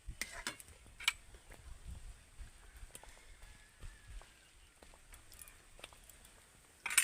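Soft scraping and clinking of a spoon stirring thick, jelly-like sweet grape sandesh mixture with ghee in a pan over low heat, with intermittent faint taps, close and quiet.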